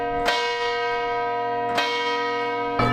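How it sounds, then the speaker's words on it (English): Church bells ring across a UK city with rich, sustained tones, three strikes spaced unevenly, each blooming and fading into a lingering hum. "There are bells ringing all over the city."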